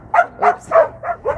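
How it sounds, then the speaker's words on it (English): Puppies bark in a quick series of five short, high yips and bow-wows, close and loud, with brief gaps between each bark. "We have some puppies barking."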